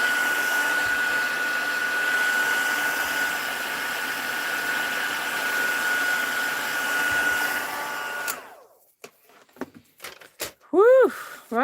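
A heat tool blows steadily for about eight seconds while heating stamped paper on grid paper, a loud continuous whirring hiss that cuts off into quiet with a few clicks and brief sounds afterward.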